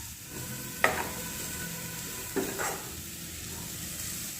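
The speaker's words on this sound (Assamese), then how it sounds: "এইখিনি এতিয়া মিক্স কৰি দিম" A spoon stirs cumin powder into a sizzling banana flower and fish head curry, giving two distinct scraping strokes over a soft, steady frying hiss.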